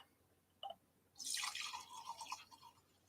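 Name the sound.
liquid decanted off charcoal filter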